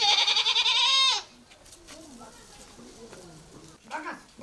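A goat bleats loudly in a long wavering cry near the microphone, then stops; a shorter second bleat follows faintly later, with quiet background sounds between.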